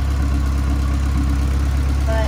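A boosted Honda Del Sol with 285,000 miles idles with a steady, loud, low rumble that holds even throughout, with faint talk near the end.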